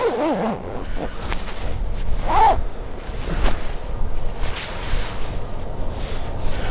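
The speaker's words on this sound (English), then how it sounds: "I'm gonna zip it all the way up" A Nemo Sonic 800-fill down mummy sleeping bag is zipped up in a long, continuous rasping pull with short tugs, close to the microphone over a low rustling, windy background.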